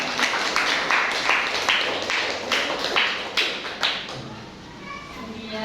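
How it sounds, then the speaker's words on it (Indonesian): A classroom group of children claps for their classmates, a burst of sharp, uneven hand claps with children's chatter mixed in, the clapping thinning out toward the end. "Beri tepuk tangan untuk kelompok 3."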